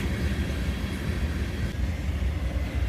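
Freight train locomotives and cars from KCS, CP and CSX roll past on the far track in a steady, loud, continuous rumble with low-frequency roar.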